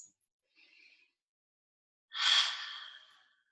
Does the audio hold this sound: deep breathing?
yes